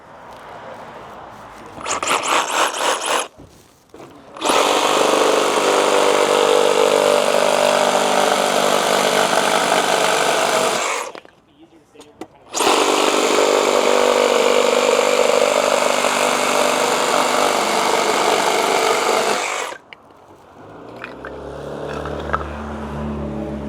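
A Makita XGT 40V power saw cuts fiberglass composite framing in two long, loud, steady bursts of harsh motor and blade noise, separated by brief pauses and short start-up revs, close by with no talk.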